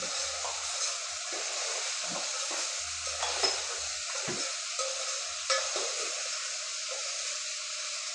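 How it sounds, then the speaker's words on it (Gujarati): Spiny gourd (kankoda) being stirred with salt and spices in a frying pan: a steady sizzle with scattered scrapes and clinks of the spoon against the pan, close up and with no talk. "હવે બરોબર મિક્સ કરી લઈએ આપણે"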